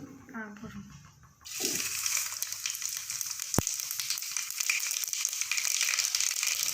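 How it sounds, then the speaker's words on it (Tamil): Mustard seeds hit hot oil in a wide pan for chicken curry, setting off a loud, steady broadband sizzle with crackling pops and one sharp snap. A voice talks briefly at the start before the frying takes over. "ஆயில் ஹீட் ஆனதும் கடுகு சேர்த்துக்கலாம்."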